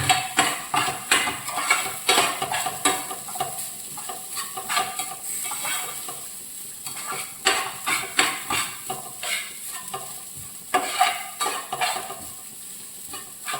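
Grated coconut dry-roasting in a pan for varutharacha sambar, stirred steadily with scraping strokes over a soft, continuous sizzle; the rhythmic scrapes are close and fairly loud, with no talking.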